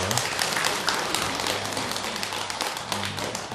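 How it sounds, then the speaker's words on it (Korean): A temple congregation at a Buddhist dharma service claps for the choir, loud close hand claps with sharp irregular taps over a low steady hum, little talk. "우리 음성공양 열심히 준비해 주시는 우리 합창단에게도 큰 박수 한번 부탁드려요"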